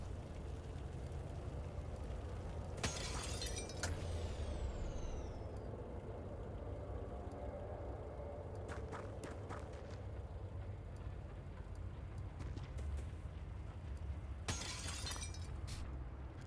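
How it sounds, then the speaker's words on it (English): Plate glass windows shatter in the alien-combat video game Xenonauts 2: two loud bursts of breaking glass with tinkling debris, one early and one near the end, plus a few sharp cracks between, over a steady low game rumble. "Nervously sneaking around, smashing through every plate glass window we can"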